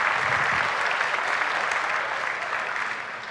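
A church congregation claps at a bilingual Spanish-English gospel service, a dense, steady burst of applause filling the room for about three seconds and easing slightly at the end.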